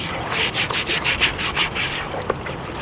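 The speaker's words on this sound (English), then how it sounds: "it's super important that you scrub out all the air pockets on this tray when you're using these gold cube trays" Steady scrubbing and rubbing on the vortex mat of a gold cube sluice tray during beach mining, pushing out trapped air pockets, a continuous close rasping texture with rhythmic strokes, no talk.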